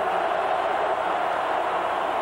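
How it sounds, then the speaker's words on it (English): Football stadium crowd at a college game between Arizona and Oregon, a dense, steady roar from a large distant audience filling the whole stretch with no break. "Listen to this crowd."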